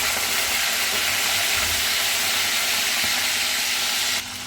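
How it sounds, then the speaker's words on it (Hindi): Chicken fries in a pan with summer vegetables over low heat, giving a loud, unbroken sizzle and hiss that drops abruptly just before the end. "मैं ना हल्की आंच करके ना ये चिकन भी जो है ना ये भी मैं इसी में फ्राई कर लेती हूँ"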